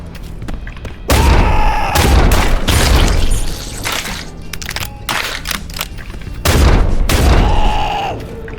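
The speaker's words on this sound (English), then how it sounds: "They're shooting at us." Enemy gunfire in the video game Urge: loud booming shots in two heavy bursts, with dense crackling volleys and thuds filling the gaps between them.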